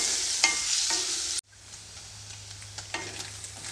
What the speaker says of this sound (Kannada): ಇವಾಗ ಪನ್ನೀರನ್ನು ಬ್ರೌನ್ ಕಲರ್ ಬರೋ ಥರ ಫ್ರೈ ಮಾಡ್ಕೊಳ್ತೀನಿ